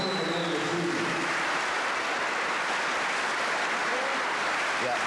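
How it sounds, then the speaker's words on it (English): Audience applause for the Irish boxing team back from the Commonwealth Games in New Zealand, a dense, even roar of clapping from a crowd at a live show, loud and unbroken. "I'd like to give a nice round of applause to the Irish boxing team who went to New Zealand to the Commonwealth Games."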